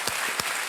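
Studio audience clapping on the Kaun Banega Crorepati quiz show set, a brief, fairly faint patter of applause with a few distinct claps standing out.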